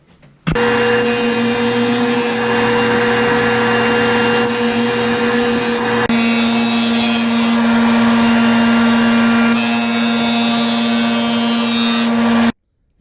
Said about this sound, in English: I'm gonna sand it down a little bit more